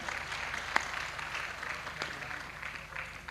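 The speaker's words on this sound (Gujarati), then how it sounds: "અને સૌથી જોરદાર તાળીઓથી ગડગડાટ અમારા આશીષભાઈને વધાવો છે" An audience at a live Gujarati folk music program applauds a singer, a soft, distant wash of clapping with a couple of sharper claps standing out.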